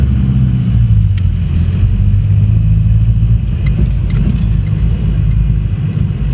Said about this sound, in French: j'ai comme un petit problème au niveau du ralenti. Je suis à plus de 2000 tours.